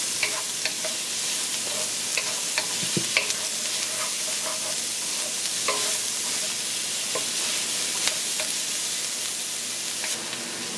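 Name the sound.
aromatics frying in hot oil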